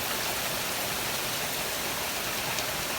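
Steady rain falls outside during a pause in repairing the throttle linkage on a Kubota BX2370 tractor, a constant broadband hiss holding even and fairly loud throughout with no speech.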